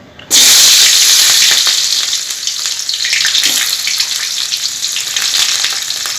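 Small onions drop into about fifty grams of hot oil for a crab gravy, setting off an abrupt, loud, close sizzle that keeps crackling steadily afterward.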